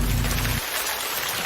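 Rain falls steadily as a soft, even hiss in a coffee commercial, faint and continuous with a low rumble dropping away partway through.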